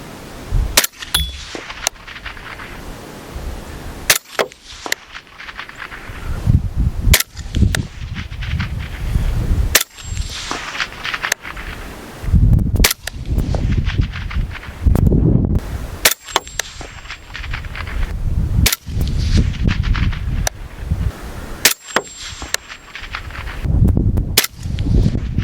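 Suppressed 5.56 rifle shots fired in a comparison of suppressors, sharp loud cracks spaced a few seconds apart over a steady outdoor background.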